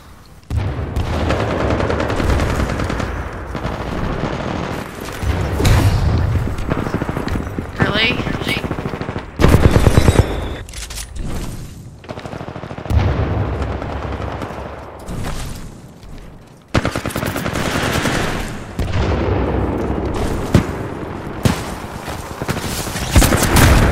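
Rapid automatic gunfire and grenade blasts fill a Titanfall 2 multiplayer match, dense sustained shooting with sudden loud bursts and brief lulls, while a player talks over it.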